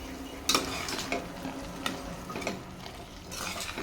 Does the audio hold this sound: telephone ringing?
no